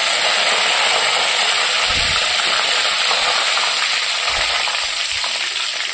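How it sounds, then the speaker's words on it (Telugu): Curry leaves sizzle in hot oil seasoned with tempering seeds, cooking for an okra fry; a loud, steady crackling hiss fills the whole stretch with no talk. "ఇదిగో కొంచెం కరివేపాకు వేసుకుంటున్నాను."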